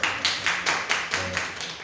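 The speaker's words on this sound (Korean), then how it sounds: "박수 한번 쳐주세요." Several brisk bursts of hand clapping by a church congregation, fairly close, coming in a short uneven run with no talking.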